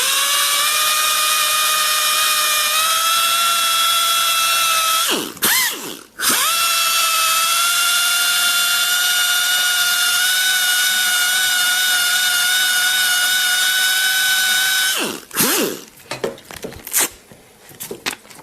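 A power sander with fine 1000-grit paper whirs loudly and steadily at a high pitch, stopping briefly twice, then cutting out into scattered clicks and scrapes.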